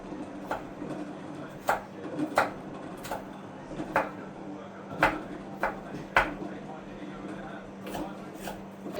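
A knife chopping carrots on a board for churumuri, with evenly spaced knocks repeating about every half second over a steady low background hum.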